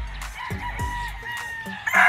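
A gamefowl rooster at a game farm crows loudly and close by, its long call rising over other birds clucking and calling in the background.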